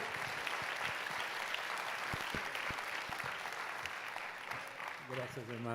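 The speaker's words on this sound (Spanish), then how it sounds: "te invito a que recibamos con un fuerte aplauso al Señor por la vida del doctor" A congregation welcomes a doctor with faint, steady applause heard from a distance, and a voice begins speaking just as the clapping fades.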